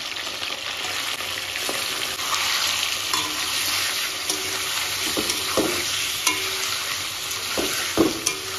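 Meat fries in hot oil with a loud, continuous close sizzle, punctuated by scattered clicks and scrapes from stirring.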